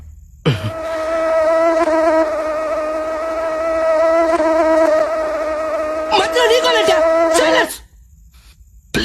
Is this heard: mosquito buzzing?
yes